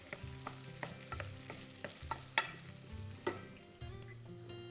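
Chopped vegetables with carrots stirred in a pan, a steady background sizzle broken by repeated scraping and clinking strokes of a utensil at an uneven rhythm, with one louder knock midway, no talking.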